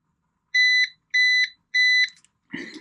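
A Ruko F11PRO 2 drone remote controller gives three identical loud, clear electronic beeps at an even rhythm as it powers up, followed by a brief rustle of handling.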